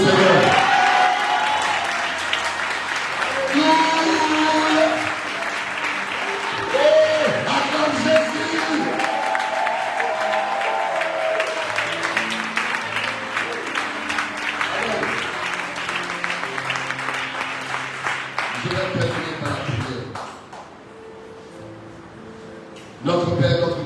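A church congregation applauds and acclaims, with sustained clapping and cheering and scattered whoops mixed with voices and musical tones, loud for most of the stretch before thinning out near the end.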